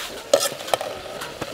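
Rat meat being stir-fried dry in a pan: a metal utensil scrapes and clinks a few times over a low, steady sizzle, close by with no talking.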